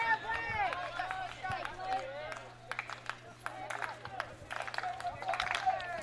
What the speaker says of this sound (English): Slow claps beginning in the stands and out in the field.